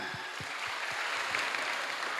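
Applause from a school assembly crowd at SMA N 4 Purworejo during a religious talk, a dense continuous clapping wash from many people, with a few low thumps underneath.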